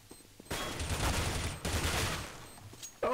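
Rapid gunfire in a video game shooter, dense bursts of automatic shots that start abruptly and roll on for a couple of seconds, then break off briefly before another burst.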